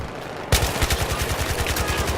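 Rapid automatic gunfire in the Battlefield 3 video game erupts suddenly after a quiet start, sustained rhythmic bursts that are loud and close, continuing to the end.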